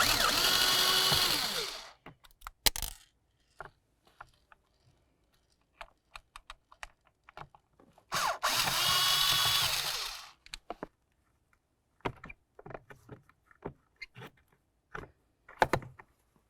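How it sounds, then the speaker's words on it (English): A power screwdriver backs out two Phillips head screws from a 2004-2006 Scion xB blower motor resistor housing, two loud whirring bursts of about two seconds each, separated and followed by scattered clicks and clatters of handling parts. "You're going to find that you have two Phillips head screws. Remove the pair and then the resistor from the housing."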